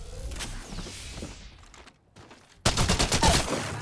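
Video game gunfire hitting the player: dense rapid bursts of shots, loud and close, a brief lull, then a sudden harsh volley of impacts, with no talk.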